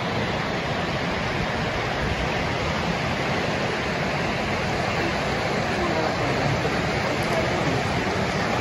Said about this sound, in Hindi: कर्णाली नदी बह रहा है और उधर से बेरी नदी